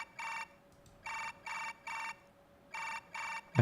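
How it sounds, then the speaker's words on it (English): A smartphone in the visual novel game CHAOS;CHILD rings with an electronic ringtone in steady repeated bursts separated by short gaps, clear and alone. "Suddenly heard the sound of a ringing phone."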